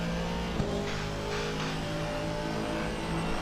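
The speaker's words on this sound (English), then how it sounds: "That V8 engine" Aston Martin V8 race car engine heard from onboard during a Porsche Cup ride-along at Imola, a loud steady drone with harmonic bands, one brief thump near the start, and no talking.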